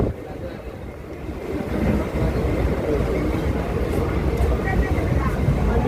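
A Mumbai slow local train pulls into Kurla station, its steady rolling rumble and rail noise swelling slightly as it arrives, with a busy platform hum around it.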